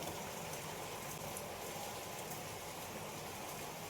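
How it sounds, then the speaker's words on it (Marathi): Dense, steady hiss of heavy rain falling continuously, fairly faint and unbroken, with no voices. "पाऊस खूप जोरात पडता"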